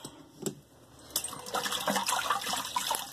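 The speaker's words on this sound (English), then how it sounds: "Let me rinse off." Water runs steadily from a tap while shaving gear is rinsed off after a shave with a 3D-printed Nomad razor, a close gushing splash with a few sharp clinks and knocks of the razor against the sink.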